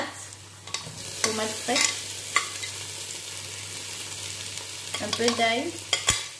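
Chicken noodle stir-fry vegetables (onion, fresh tomato, garlic, bell pepper) stirred and sizzling in a pan, with a low steady sizzle broken by repeated scraping and clattering stirs; a voice speaks briefly over it.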